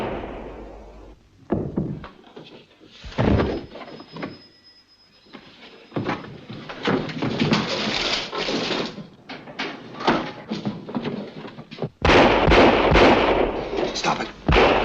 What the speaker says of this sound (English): Stop it. Stop shooting.